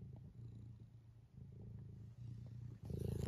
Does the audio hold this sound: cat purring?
yes